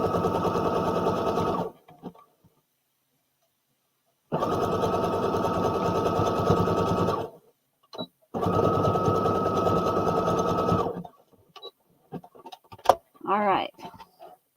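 A sewing machine stitches a pocket onto a Simplicity S9456 garment, running in two long, steady bursts of several seconds each, separated by pauses, followed by a few short clicks and handling noises.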